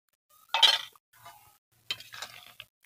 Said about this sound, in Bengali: এবার খানিকটা নেড়ে দেব